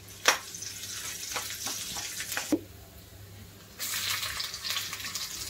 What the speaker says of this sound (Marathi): लसूण आणि अद्रक टाकूया, ते पण परतून घेऊया